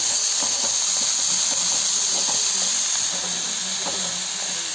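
Sliced onions with salt sautéing in a pan for an egg snack, a constant loud hiss with faint scattered taps and scrapes beneath it, close and steady throughout.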